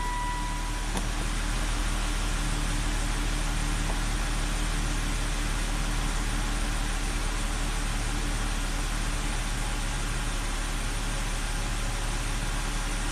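A Volvo XC90 engine idles steadily after starting following a long crank and stall problem, a continuous low, even hum with no revving or talk.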